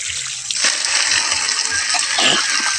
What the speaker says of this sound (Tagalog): ito po ang tubig drain na